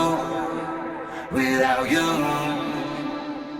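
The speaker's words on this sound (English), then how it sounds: "we added a low robotic element to it as well" A brief sung phrase doubled by a deeper, processed robotic voice layer, the two stacked together over a sustained musical backing.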